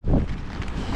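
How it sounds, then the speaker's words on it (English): Gusts of wind buffet the microphone outdoors, a steady low rumbling roar that swells at the start and keeps blowing. "And it's so windy outside."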